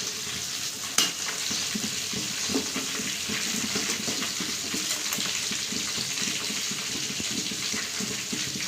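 Squid vada bubbling and frying steadily in hot coconut oil, a dense continuous sizzle with fizzing crackles, moderately loud and close, with no talk.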